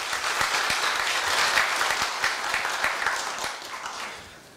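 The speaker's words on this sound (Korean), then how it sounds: "큰 박수 좀 부탁드리겠습니다" A hall audience at a university staff retirement ceremony claps steadily, a dense even wash of applause with a few sharper nearby claps, fading slightly toward the end.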